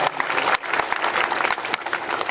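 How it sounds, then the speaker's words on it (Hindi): Loud, dense applause from an audience at a community anti-drug campaign event, a continuous burst of many hands clapping at close range with no talk over it. "जोरदार तालियां"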